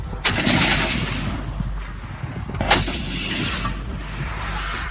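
A loud, booming cannon blast from a Russian Vasilek automatic mortar rings out, followed shortly by a second heavy report over constant rumbling background noise.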